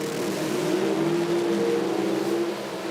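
An Outlaw Pro Mod drag car at an IHRA drag race holds a steady, loud engine roar on throttle with a sustained droning tone that fades slightly at the end, heard without talk.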